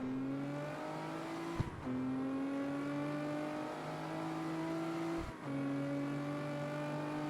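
Racing run in the CarX Street video game on fat grip tires, a car engine droning at steady revs that climb gradually, broken by two quick gear shifts where the pitch drops and then resumes, with no talking.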